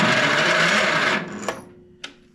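Old project tractor engine cranking on a weak battery, a rapid rhythmic whirring of the starter for about a second, then it stops, followed by two sharp clicks in the quiet.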